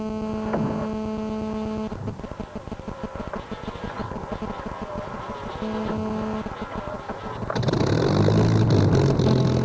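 A Supermarine Spitfire's piston engine starts with uneven coughing bursts, then roars up into a loud, steady run-up, heard close with a persistent background hum.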